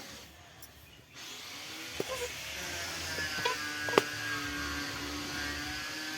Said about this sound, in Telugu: నేనైతే డ్రిల్ కొట్టేస్తాను